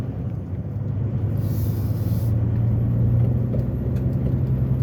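A car drives along a winding mountain road with many curves, its engine a steady, loud low rumble from inside the cabin with a constant hum and no talking.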